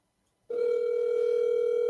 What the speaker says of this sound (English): I'm gonna try to call him right now